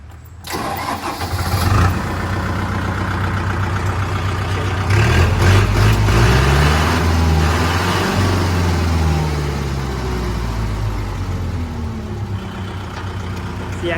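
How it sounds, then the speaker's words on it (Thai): A used Kubota MU4902 tractor's diesel engine cranks and catches, then settles into a steady, loud, rumbling idle close by, with the revs briefly rising and falling. "เดี๋ยวเรามาฟังเสียงเครื่องกันนะครับ"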